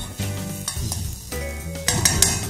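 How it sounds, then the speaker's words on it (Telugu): Green chillies frying in a pan for chicken fried rice, giving a steady sizzle with stirring, scraping and metallic clinks of a utensil against the pan, and no talking. "కొంచెం ఫ్రై అవనిద్దాం"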